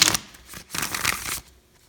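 Tarot cards are shuffled up close in two quick bursts of crisp riffling and papery rustle, separated by a short pause.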